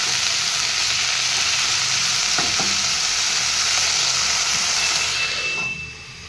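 Saag, a dish of leafy greens, fries in a pan with a steady, close sizzle and a hiss of steam. The sound drops off abruptly near the end, as if the pan were covered.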